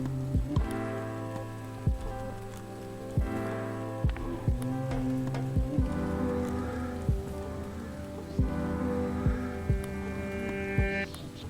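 Heavy rain drums steadily on a surface near a pandal set up for a rice-feeding ceremony, with sharp periodic drips or knocks and a faint hum underneath, no talk.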